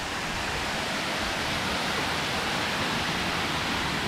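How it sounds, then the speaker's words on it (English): Waterfall at Erawan National Park, a steady, broad rushing roar of falling water with constant loudness throughout, close and alone with no voices. "There's really waterfalls everywhere."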